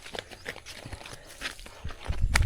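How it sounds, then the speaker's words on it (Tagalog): A horse walks on a mountain farm, its hooves making an uneven run of soft clip-clops at close range, with some rustling and a louder thud near the end. "Kabayo no."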